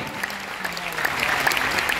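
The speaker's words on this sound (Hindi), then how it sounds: "जोरदार ताली।" Loud, continuous applause from an audience at a DXN business meeting, steady clapping filling the whole clip.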